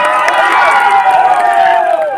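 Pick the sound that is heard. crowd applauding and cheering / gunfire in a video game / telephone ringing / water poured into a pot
crowd applauding and cheering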